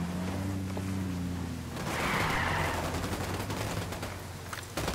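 Rapid burst of gunfire follows a shouted order to fire, dense overlapping shots forming a loud, sustained fusillade across the whole stretch, with a brief voice faintly underneath.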